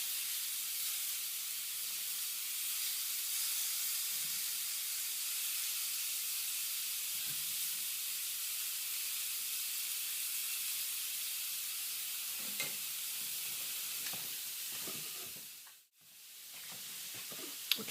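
Beef kebabs sizzle steadily in a hot pan, a dense bright hiss of frying that holds for a long stretch, with a few soft knocks near the end and a brief dip in the sizzle.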